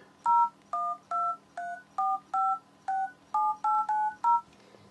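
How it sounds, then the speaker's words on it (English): Touch-tone keypad on an HTC Desire S phone dialer, eleven evenly paced dual-tone beeps in a steady sequence, clear and close with a faint background hum. "The phone dialer, extremely easy to use."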